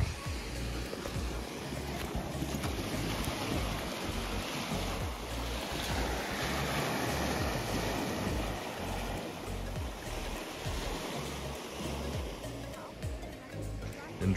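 Waves wash steadily onto a beach in Denmark with rushing surf and gusty wind buffeting the microphone, a continuous broad roar.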